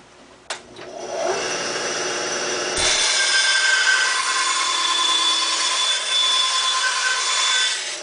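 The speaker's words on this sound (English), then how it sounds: "here's a piece of wood. I'll cut it in half to simulate a broken piece." A hand saw cuts a piece of wood in half, starting with a sharp knock and then moving into a steady, continuous rasping that grows a little louder and carries on to the end, close by with no speech.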